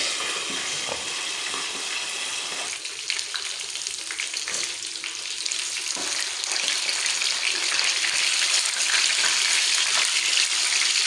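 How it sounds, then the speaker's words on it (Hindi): Sindhi-style fish fries in a covered pan with a steady, dense sizzle and crackle. The sound holds close and continuous, grows slightly louder partway through, and plays with no talking. "फ़िश हमारी तकरीबन दोनों साइडों से फ्राई हो चुकी है"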